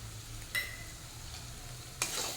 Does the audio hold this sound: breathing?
no